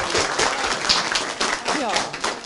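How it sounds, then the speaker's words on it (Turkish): Applause and clapping for a young village schoolchild who has just recited a poem, a short burst of claps mixed with nearby voices talking over it. "Evet, kocaman bir alkış."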